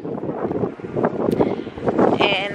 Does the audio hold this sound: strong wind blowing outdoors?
yes